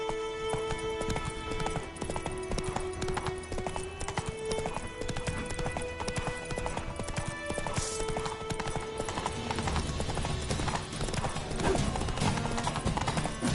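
Roach the horse gallops in The Witcher 3, hooves clip-clopping steadily throughout over layered game music, with a brief whinny and faint background voice.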